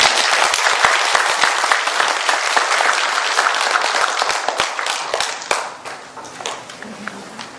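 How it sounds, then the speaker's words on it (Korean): A crowd at a Korean religious doctrine lecture contest gives loud, close applause that thins out and dies down after about five seconds, when a voice begins speaking. "박수 좀 한번 보내주시고"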